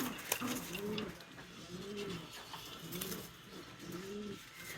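Big racer pigeons in a loft give deep, rolling coos in three or four evenly spaced bouts, near and clear against faint background noise, with no talk.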